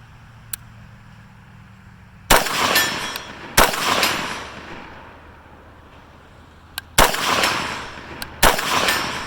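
Rifle shots fired one at a time at a 12-inch target through a 1-4.5 scope: a faint early crack, then four loud, sharp reports spaced a second or more apart, each trailing a short echo.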